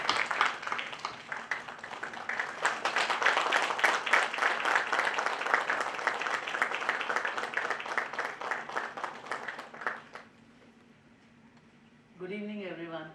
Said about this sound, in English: please welcome ma'am with a resounding applause and a standing ovation